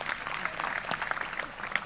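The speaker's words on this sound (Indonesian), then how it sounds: "Tepuk tangan untuk kelompok pertama." A small group claps briefly, a short burst of scattered applause at moderate volume.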